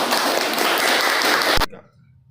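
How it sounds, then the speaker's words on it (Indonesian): A group in a university teacher-training class claps for group K, a dense burst of applause lasting about a second and a half before stopping abruptly, with only faint room noise afterward. "Kasih tepuk tangan untuk kelompok K."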